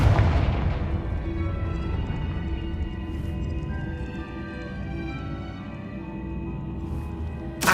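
In Hogwarts Legacy, the Confringo explosive spell erupts as a heavy, rumbling blast that rolls on and slowly fades, followed by sustained battle din with a couple of sharp bright accents, fairly loud and with no talking.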